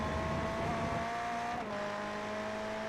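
Ferrari GT3 race cars in a sim racing championship drone past with a steady, strained engine note, one car's pitch dipping as it shifts or passes, loud and continuous with no talk.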